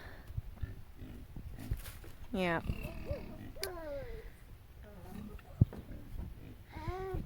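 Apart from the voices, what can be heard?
pigs grunting and oinking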